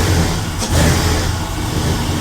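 A 1956 car engine, converted to a two-door, takes a quick throttle blip, its mid-low roar swelling briefly then settling back to a steady, close, loud running note.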